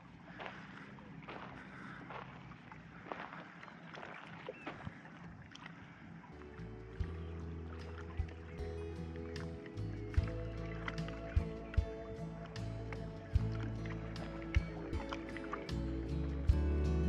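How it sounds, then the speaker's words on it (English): An old boat engine chugs steadily below deck, settling into a low, even drone with regular sharp knocks after a windy, rustling start, close and moderately loud. "I don't know if you can hear that old engine, but she's just chugging away there."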